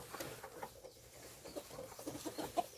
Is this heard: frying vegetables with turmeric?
no